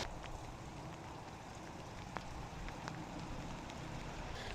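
Rain falls outdoors in a constant, even patter with a few sharper drop ticks, heard close and fairly soft with no talking.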